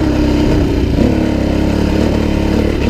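A Suzuki DRZ400e four-stroke dirt bike engine thrums loudly and steadily up close while riding, with a slight rise and fall in revs and no voices.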